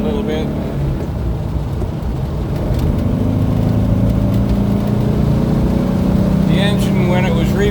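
A 1969 Porsche 912 with a rebuilt engine upgraded to a 1700 cc cylinder kit, droning steadily while driving and rising in pitch partway through, heard from inside the car under continuous road and wind noise.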